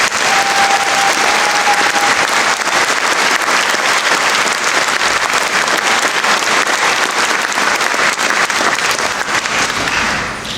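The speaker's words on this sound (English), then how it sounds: "I think they deserve a very warm round of applause" An audience at a university graduation ceremony breaks into loud, sustained applause, dense clapping filling the hall for the whole stretch before tapering slightly at the end.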